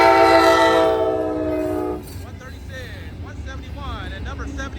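A triple-header Amtrak California Zephyr passenger train blasts its horn up close in a loud sustained chord that cuts off at two seconds, then rolling wheels and rail noise continue with faint squeals.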